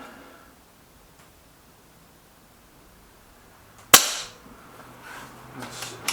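A single sharp air pistol shot from an Artemis P15 or EB Arms XV2 at target practice, close and crisp after a quiet stretch, followed by faint rustling and handling noise.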